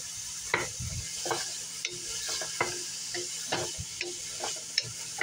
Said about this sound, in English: And I'm going to start sauteing this.